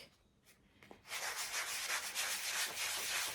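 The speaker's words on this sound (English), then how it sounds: "I'm just going to use a really fine grit sanding block." After a second of near quiet, a steady, close scratchy rubbing starts and continues evenly as a fine grit sanding block is worked back and forth over paint.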